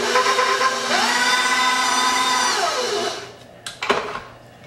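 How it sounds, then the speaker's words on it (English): An electric mixer whirs steadily through chocolate chip cookie dough for about three seconds, loud and close, then winds down and stops, followed by a few quiet knocks and scrapes. "Now I'll mix this all in."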